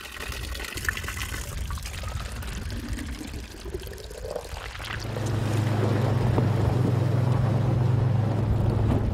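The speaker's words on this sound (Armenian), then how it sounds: "Առաջնագծում հոսող ջուրը շատ լավ է" Stream water flows at a front-line border position in Armenia, a steady rushing, pouring wash that starts moderate and swells louder and fuller halfway through, with no voices.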